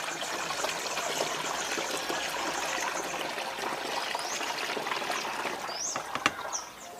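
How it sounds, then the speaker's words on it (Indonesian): Rice-washing water being poured into a container, a steady close trickling gush lasting several seconds, with faint chirps near the end and no speech. "Yang jelas kita kemudian masukkan air cucian beras."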